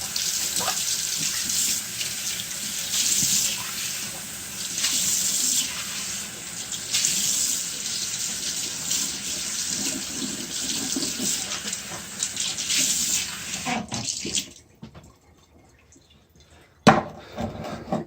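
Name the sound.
tap water rinsing out a Minox film developing tank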